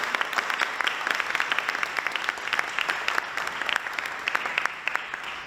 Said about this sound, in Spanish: voy a pedir nuevamente un aplauso